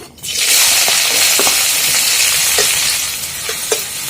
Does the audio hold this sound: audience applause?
no